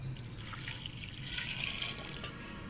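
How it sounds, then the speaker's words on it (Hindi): Water runs steadily into a pot of soaked lentils for a squash and dal curry, a continuous close splashing pour lasting a few seconds with no talking. "अब हम इसमें पानी डाल देंगे।"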